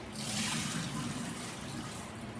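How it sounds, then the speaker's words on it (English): Red beans are rinsed under running tap water and drained in a sieve, giving a steady, close, fairly loud rush of flowing water with no talking. "So I'm going to get the sieve and I'm going to strain them out."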